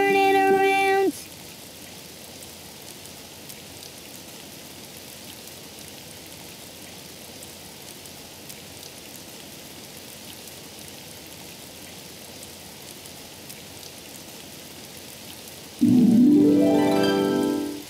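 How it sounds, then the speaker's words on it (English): Steady rain falling outside, a soft continuous patter of drops heard alone and at moderate distance, with brief musical tones at the start and end. "Oh, it's raining outside."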